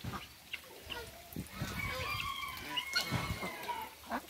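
Young Rouen and Blue Swedish ducklings give a mix of faint scattered peeps and honking calls, several birds calling over one another at a low, distant level.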